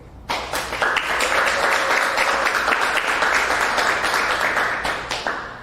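Audience applause for a guest being introduced at a Green Space Miami talk event, a dense, sustained wash of many hands clapping that starts abruptly and holds steady, fading slightly at the end.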